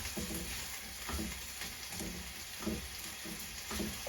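Okra being stirred in oil in a pan, with a steady frying hiss and soft repeated scraping strokes of the spoon roughly every half second, close up and fairly quiet with no talk.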